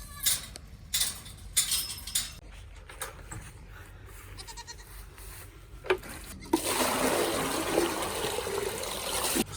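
Water poured out over a goat milk stand on a farm, a burst of splashing rush near the end following scattered clanks, bumps and goat bleats in the quieter earlier stretch.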